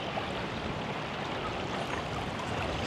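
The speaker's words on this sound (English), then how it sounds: "This is the creek." Creek water rushes through a washout near a campground at Pacific City, a steady broadband roar of flowing water, close and continuous with no talking.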